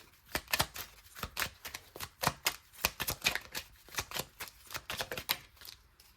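Rapid, crisp riffling and slapping of tarot cards being shuffled, close by, in repeated bursts with brief pauses between them.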